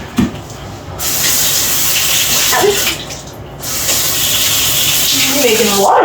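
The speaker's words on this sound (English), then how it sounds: "we fill that up with water" Water gushes loudly from a tap into a container, a steady rushing stream that stops briefly and then resumes.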